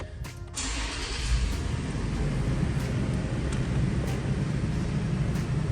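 A 2022 Toyota 4Runner TRD Off Road with 38,000 miles starts by push button: a brief crank at the beginning, then a steady, close engine idle rumbling on without a break.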